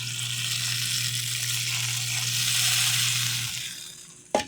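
A pot of tinola broth with mussels boils steadily, a continuous bubbling sizzle that fades near the end before a sharp clatter, with no talking.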